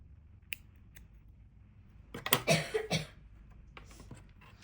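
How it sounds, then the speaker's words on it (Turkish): Scissors snip through yarn for an amigurumi gingerbread man keychain, a few quick close cuts around the middle, with soft handling noise before and after. "Ortalama 15 santim kadar iplik kesiyorum."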